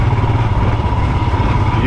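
A Royal Enfield Himalayan 411 motorcycle engine runs steadily on a trail ride, a continuous low mid-range drone at close range, with a voice speaking over it.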